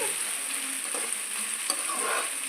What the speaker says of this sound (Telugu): ఇలా పచ్చిమిర్చి ఉల్లిపాయలు మగ్గనివ్వాలి ఆయిల్లో